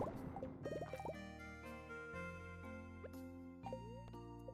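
Watering crops by hand with a watering can in a farming video game during the Spirit's Eve festival, heard as repeated short liquid pours and drips over steady tonal game music, with a chime between them.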